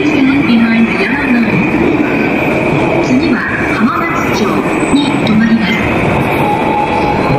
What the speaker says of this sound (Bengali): এই যে কামাতা যাওয়ার জন্য এই ট্রেনটি আসছে।